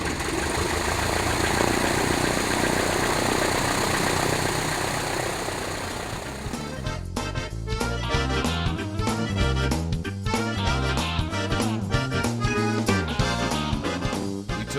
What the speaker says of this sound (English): we headed for the airplane, climbed on in, and we were ready to fly.